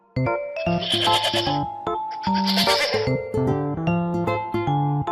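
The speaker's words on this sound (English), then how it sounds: "Goat." A goat bleats repeatedly in loud, close, quavering calls on a farm, with several overlapping cries in quick succession and a faint tinkling in the background.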